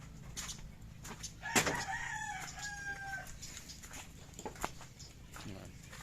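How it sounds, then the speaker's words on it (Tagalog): Chickens cluck and a rooster crows loudly once near the start, with scattered bird calls and faint background voices in a rural yard on Burias Island after a typhoon. "Ayan yung mga manok."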